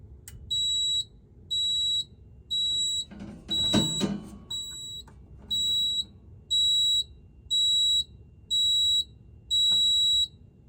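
Notifier NFS-320c addressable fire alarm system in a home sounding during a full test: a rhythmic series of about ten high-pitched beeping pulses in a steady on-off pattern, with a brief rustle midway.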